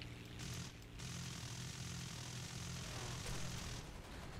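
Droning propeller engine of an I-153 Chaika biplane in War Thunder, a steady loud hum with low harmonics held throughout, rising and falling slightly, with no talking.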